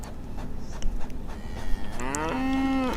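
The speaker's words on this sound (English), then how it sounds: "Yeah, moo." A cow lets out one drawn-out, close moo near the end, after a quieter stretch of soft shuffling.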